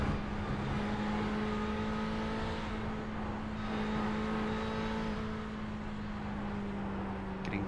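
Ferrari GTE race cars racing at Circuit de la Sarthe, Le Mans, in iRacing, heard as a steady, sustained engine drone that holds a constant pitch for several seconds, with a faint pass-by swell near the middle.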